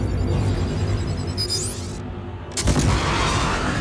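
A missile explosion in the Star Citizen video game, a loud deep boom and rumble with a rising whoosh, a brief cutout, then a second heavy blast with a rumbling tail.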